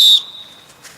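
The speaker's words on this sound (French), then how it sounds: "N'ayez pas peur de souffler dans le sifflet." Referee's whistle in a football training session, one short sharp shrill blast close by that cuts off quickly, followed by faint ambient noise.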